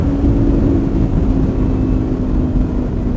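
An Audi R8 Spyder is driven along, its engine a loud, steady low drone with road and wind rush around it, holding a fairly constant pitch with no talking.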